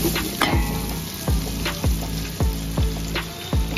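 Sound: spices frying in hot oil

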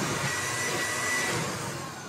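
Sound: SnapFresh cordless handheld vacuum/sweeper running in vacuum mode

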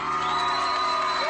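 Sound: residents cheering as the housing towers are demolished

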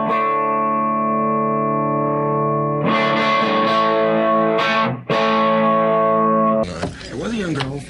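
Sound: electric guitar through a Fender Champ amp into a 2x15 speaker cabinet

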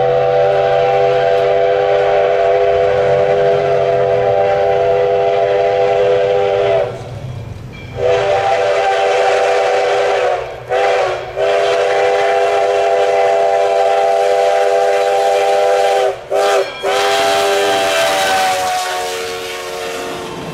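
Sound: Alco locomotive pulling the Sugar Express excursion train

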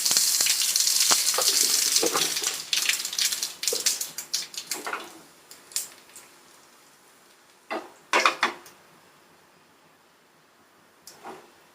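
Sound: dried red chilies frying in hot oil

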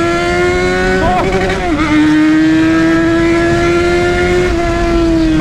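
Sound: Yamaha XJ6 motorcycle engine revving

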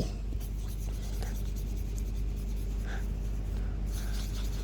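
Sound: colouring a Garten of Banban picture's mouth

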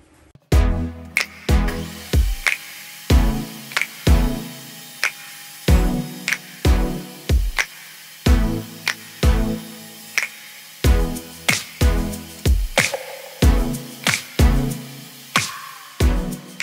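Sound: cutting wood pieces for a dovetail box lid

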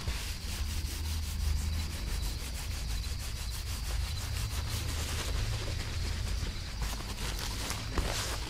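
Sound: rubbing soft fabric napkins

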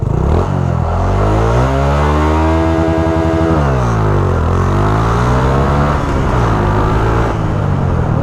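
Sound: Honda Wave 125i motorcycle engine revving

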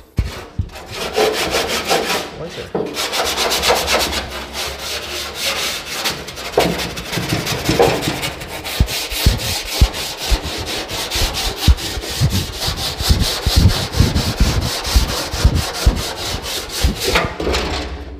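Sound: wire brush scrubbing a Mustang car part

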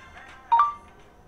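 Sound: Realme phone notification tone

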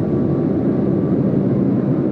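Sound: Boeing 747-8 hard braking during rejected takeoff

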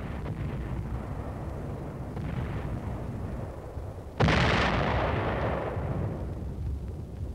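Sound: artillery bombardment in World War II footage

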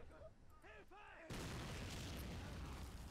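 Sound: artillery explosion in video game WW1 battle

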